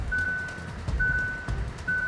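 A car's warning chime beeps during a steep off-road descent in a 4x4 comparison, three long steady tones spaced about a second apart over rumbling engine and terrain noise, with no voices.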